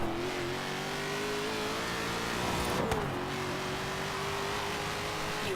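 Ford Shelby GT500 tuned past 1000 horsepower, driven in Forza Horizon 3, accelerating hard with a loud, steady engine roar and rising pitch, a brief gear-shift dip midway, no talking.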